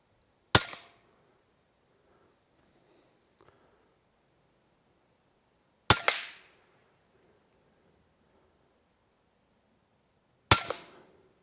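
Three sharp shots from a Huben GK1 air rifle firing slugs, spaced about five seconds apart, each a crisp crack with a short ringing tail, close and alone with faint handling noise between.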